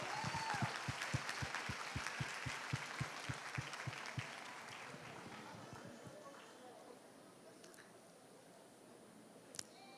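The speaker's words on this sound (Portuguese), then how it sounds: "Podemos aplaudir essas preciosas?" A church congregation claps together in a fast, steady rhythm that fades out after about four seconds, leaving low murmuring and a few scattered claps, all fairly faint.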